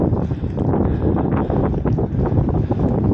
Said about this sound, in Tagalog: Oh, yan lakas ng hangin.